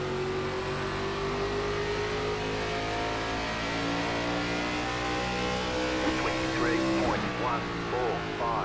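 Race car engines drone loudly and continuously in an iRacing NASCAR ARCA Series race at Richmond Raceway, with sustained revving tones. Near the end the pitch sweeps and shifts as cars accelerate and pass.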